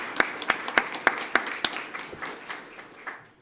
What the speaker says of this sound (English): Let's give her a round of applause to start off with.